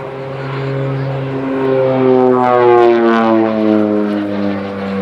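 An OV-10 Bronco propeller airplane drones steadily with a strong harmonic hum, its pitch shifting slightly as it passes, loud and fairly close throughout.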